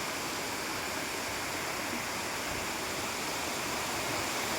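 A shallow stream with a low water level rushes in an even, unbroken wash, steady and fairly loud throughout, with no voices.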